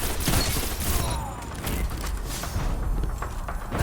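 Dense combat from a Destiny Trials match: a steady wash of gunfire, thuds and explosive bursts with mechanical clatter, loud and continuous for a few seconds without letting up.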